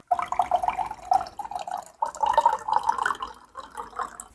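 Filtered water is poured over tea herbs in a pot, a close, steady splashing trickle in two bursts with a brief pause between.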